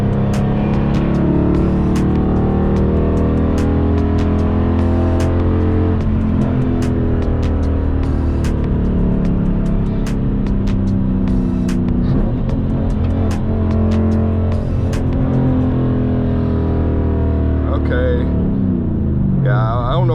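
A Dodge Challenger's engine drones steadily while being driven hard, a low constant rumble with shifting harmonics heard up close from inside the car, broken by occasional clicks near the end.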